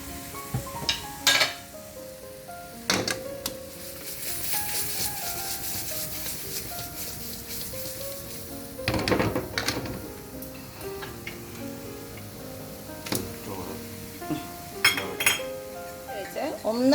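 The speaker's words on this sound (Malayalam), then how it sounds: "ഒന്ന് തണുപ്പിച്ച ചോറാണ് കേട്ടോ ഇടുന്നത്" Cooled cooked rice sizzles in a hot oiled pan for restaurant-style fried rice, with steady frying hiss, scattered clinks of a utensil against the pan and stirring scrapes, under a speaking voice.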